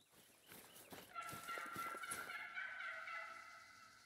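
A wild turkey gobbles in a rapid, warbling burst in the video game theHunter: Call of the Wild, fairly clear over faint background footsteps and rustling.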